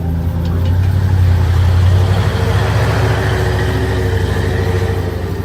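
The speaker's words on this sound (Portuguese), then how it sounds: "o que parece ser o carro de Walter finalmente voltando para casa" A car approaches as it returns home, in an audio drama podcast, with a loud, steady engine rumble and road noise that hold throughout.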